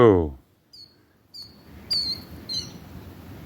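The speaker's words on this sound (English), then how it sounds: "Those are the ducks I scared off. They just flew back by and strafed me." Ducks that were scared off fly back past a narrow strip of water in the wild, giving a series of brief, high, whistling chirps at moderate distance after a short burst of voice at the start.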